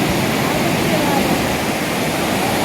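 A waterfall roars continuously, a dense steady rush of falling water that fills the whole moment and holds no breaks.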